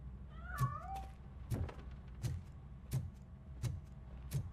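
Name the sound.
cat meowing in video game RoboCop Rogue City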